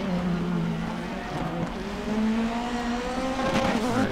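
Race car in a sim racing video game braking hard into a hairpin: a steady engine drone with falling then rising pitch as the car slows and accelerates out, loud and continuous with a commentator talking.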